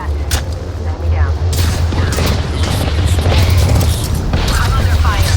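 Gunfire in an Apex Legends ranked match on Kings Canyon: dense, continuous bursts and booms over a steady low rumble, loud throughout, with talk mixed in.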